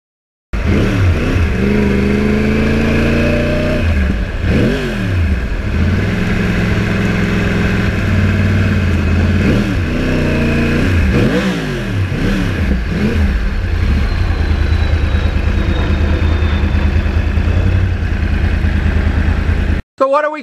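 A 2009 Yamaha R1 crossplane-engine sport bike ridden on wet roads without traction control, its loud engine note rising and falling through repeated revs and gear changes, close and continuous throughout.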